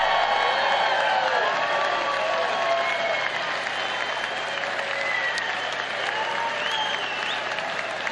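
A large audience at the CPAC 2023 conference breaks into sustained, dense applause that holds steady throughout, with a few faint voices mixed into the clapping.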